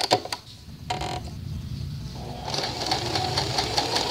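Home sewing machine running a straight stitch through fabric, a steady mechanical whir that starts and stops briefly then runs continuously near the microphone.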